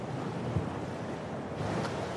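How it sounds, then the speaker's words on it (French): Sea waves surge and wash continuously along a rocky Corsican coastline during sea kayaking, a steady loud roar of surf with wind buffeting the microphone and no voices. "Avec ces vagues, c'est assez physique."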